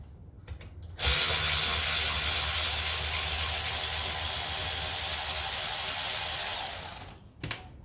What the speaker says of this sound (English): No, it's not a ghost, it's just the wind blowing.